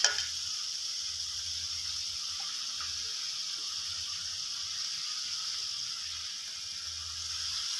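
Mixed vegetables sizzle steadily in a hot wok, a continuous close stir-frying hiss with faint clinks of stirring now and then.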